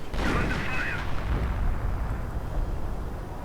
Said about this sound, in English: There we go, artillery fire.